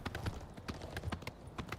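Horse hooves clip-clopping in the video game Oblivion Remastered, a quick, even run of hollow knocks at close range, moderately quiet, with no voices.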